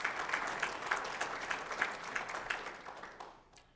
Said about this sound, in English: So big round of applause to all our sponsors.